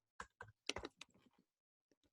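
Fingers tap out a quick burst of sharp clicks on a computer keyboard, close and clear, followed by a pause and two faint final keystrokes.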